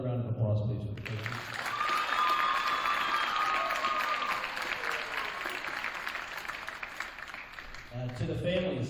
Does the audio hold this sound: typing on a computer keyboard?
no